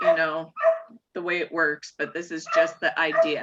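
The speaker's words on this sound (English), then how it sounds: "Sorry about my dogs, by the way." Dogs, including a puppy, bark and yip indoors during a live psychology lecture. The calls are mixed in with continuous close speech and are partly masked by it.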